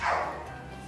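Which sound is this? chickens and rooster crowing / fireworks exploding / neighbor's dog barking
neighbor's dog barking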